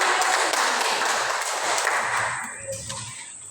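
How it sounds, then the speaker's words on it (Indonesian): Schoolchildren in a classroom clap their hands briefly at the end of a lesson, a burst of close claps that thins out and fades after a few seconds. "Tepuk tangan"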